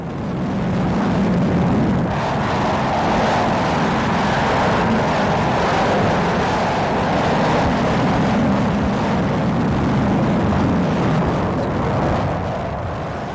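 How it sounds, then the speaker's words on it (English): A large military aircraft heading north toward Iraq during Desert Storm produces a loud, steady jet roar that holds without a break, broad and rumbling and close. "let's watch and listen for a moment as we watch the pool pictures of this mighty aircraft going north to Iraq"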